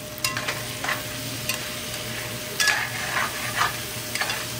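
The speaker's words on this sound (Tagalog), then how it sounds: "Ito yung taugi, oh. Halo ko siya." Bean sprouts and tofu are stirred in an oiled pan, with a steady close sizzle broken by soft scraping and stirring strokes at an uneven rhythm.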